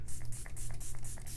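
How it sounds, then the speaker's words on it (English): Short repeated hissing bursts of Lancome Fix It and Forget It setting spray, several quick pumps in a row, close and fairly soft over a steady low hum. "Last step is setting spray."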